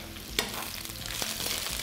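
Steady close sizzling of mushrooms frying in a pan for a pork neck casserole, with a few sharp crackles and scraping stirs.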